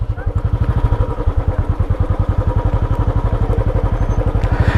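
A Royal Enfield motorcycle thumps steadily on a mountain road at Zojila Pass in Ladakh, its single-cylinder beat loud and close with an even rhythm throughout.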